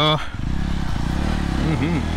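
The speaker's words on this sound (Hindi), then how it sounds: "the sound is great on this bike यार क्या साउंड" Yezdi Roadster motorcycle engine running steadily while riding, a loud continuous low rumble close by that builds slightly toward the end.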